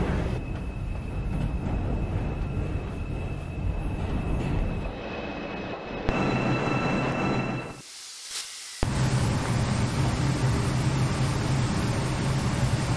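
An NYCT R142 subway train on the 3 line in the Trainz 2019 simulator runs with a sustained rumble and hiss and a steady whine, briefly dropping out near the middle before resuming loud and constant.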